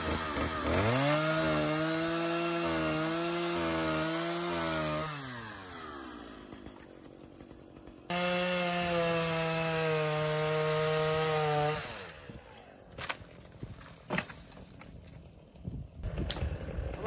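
A Stihl MS290 chainsaw cutting firewood roars loudly at high revs, drops away, surges back to full throttle, then settles to a rough idle with scattered clicks and knocks.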